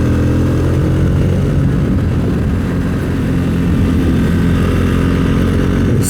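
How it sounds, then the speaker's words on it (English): A Triumph Speed 400 motorcycle accelerates, heard as a loud, continuous engine roar mixed with wind rush, steady and close throughout. "this bike has no problem accelerating up into some pretty good speeds"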